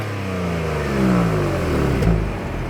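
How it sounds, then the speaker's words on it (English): Genesis G70 engine revving in sport mode with the exhaust opened up, a rising mid-pitched roar that climbs, swells and briefly dips before surging again, loud and close. "this car has those sport modes, which will actually open up the exhaust so you can really hear this engine"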